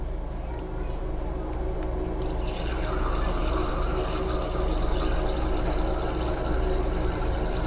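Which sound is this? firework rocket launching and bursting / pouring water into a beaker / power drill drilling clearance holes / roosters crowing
pouring water into a beaker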